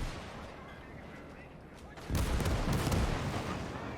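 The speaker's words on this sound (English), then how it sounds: "Both tanks firing." Tank cannon fire in a Battle of the Bulge video game, with a sudden loud, heavy blast halfway through followed by sustained booming rumble and crackle, after a quieter stretch of low battlefield noise.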